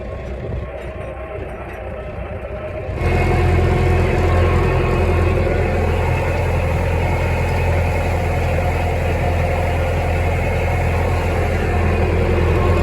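A tractor engine idles and runs steadily at a hay field during first-cut baling, its low rumbling drone starting loud and close after a quieter opening and holding constant to the end.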